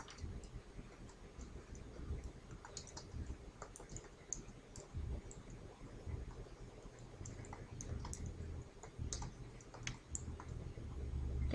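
Quiet, rapid clicking of computer keyboard keys as a chart title is typed, faint and close in a still room.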